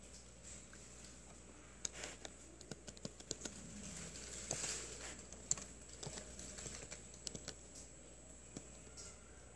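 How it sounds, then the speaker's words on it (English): Web address being typed on a handheld phone, a slow run of faint irregular taps and clicks over a quiet room background. "I'm typing slow because I'm holding the phone."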